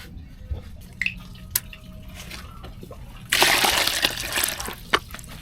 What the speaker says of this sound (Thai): เติมน้ำลงไปแบบนี้ แล้วน้ำมันไม่ทะลุแปลว่าดินเลนมันแน่นแล้วนะคะ